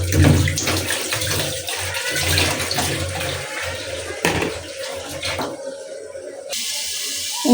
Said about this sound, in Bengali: তো এই যে জল দিয়ে দিছি তরকারিটাকে